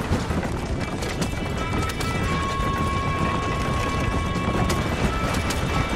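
A horse gallops in the video game Red Dead Redemption, its hooves pounding in a fast, continuous clip-clop. The galloping stays loud and steady throughout, with a faint tonal game sound running underneath.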